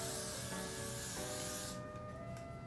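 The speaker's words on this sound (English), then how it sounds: "Put some holding spray on my edges and slick everything back." A few quick, close bursts of holding spray mist onto the edges of a wig, a bright airy hiss that cuts off sharply near the end, with faint rubbing underneath.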